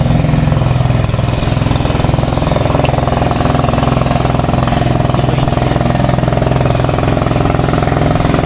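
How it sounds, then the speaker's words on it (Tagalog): A motorcycle rumbles close by beside flowing water, a loud steady engine drone that fills the whole stretch without fading. "May dadaan na namang motor."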